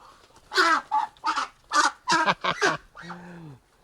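A duck quacks in a run of loud, close, nasal calls, about eight in quick succession, ending on a lower drawn-out note.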